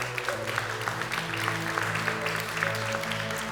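A church congregation applauds during a worship service, a moderate wash of clapping blended with sustained keyboard music playing underneath.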